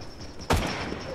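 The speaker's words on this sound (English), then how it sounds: "Who else is shooting back there?" A single sharp gunshot from other players in a video game, a loud close crack with a short echoing tail over steady background noise.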